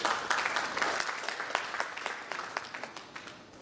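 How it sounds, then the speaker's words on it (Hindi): An audience at a Bihar convention gives welcoming applause, moderately distant and fairly quiet, with steady clapping that thins toward the end into scattered individual claps. "डॉक्टर ऋतु रंजन मैम को जोरदार तालियों से स्वागत"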